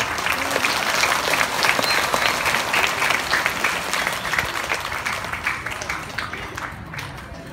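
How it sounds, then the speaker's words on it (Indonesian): Crowd applause at an outdoor anniversary celebration in Praya, Central Lombok, a dense steady patter of many hands clapping that carries on for several seconds before slowly thinning, with faint voices mixed in. "Tepuk tangan."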